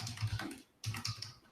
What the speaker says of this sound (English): Sorry, guys, if I'm typing loud. I kind of abuse my keyboard.